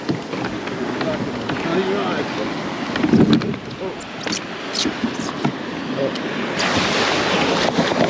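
Ocean surf breaking on an Australian beach, a steady wash of waves with wind buffeting the microphone, loud and close, with a brief voice in the middle.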